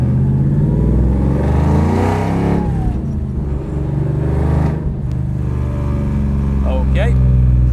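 A carbon-bodied Shelby GT500 accelerates hard, its deep engine roar rising through the gears at close range with a shift break midway, heard from inside the car.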